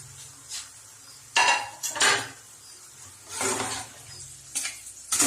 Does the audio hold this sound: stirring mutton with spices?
yes